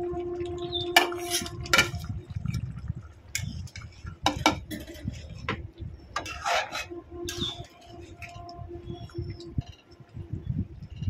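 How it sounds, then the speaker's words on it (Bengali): Pieces of pointed gourd and rohu fish going into a cooking pot with boiled potatoes, heard as scattered clinks, knocks and scraping rubs of utensils against the pot, close and irregular over a steady faint background. "এবারে এতে পটল আর মাছগুলো দিয়ে দেব।"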